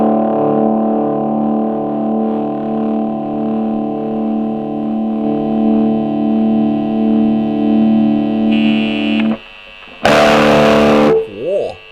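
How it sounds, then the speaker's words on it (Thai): A thick, distorted guitar chord from a modified 10-watt KAZUKI amp with a new speaker sustains loudly for several seconds, then cuts to a burst of noisy overdrive crunch and a quick bending, wailing note. "ว้าวโอเวอร์ไดรมาดีเลยฮะ"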